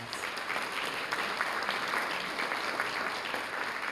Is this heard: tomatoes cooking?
no